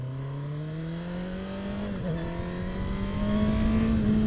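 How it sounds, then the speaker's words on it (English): A 2021 Honda CBR1000RR sport motorcycle engine-braking hums steadily at mid revs, pitch slowly rising and dipping, with a constant droning note and no speech. "the engine braking feels way stronger right now"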